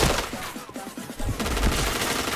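Rapid automatic gunfire in a shooting video game, a quick burst of close, loud shots followed by a denser clatter of fire and effects.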